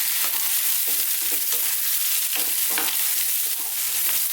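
Broccoli, red cabbage and other vegetables stir-fry in oil over maximum heat. A loud, constant sizzle fills the whole stretch, broken by rhythmic scraping and tossing strokes of the utensil.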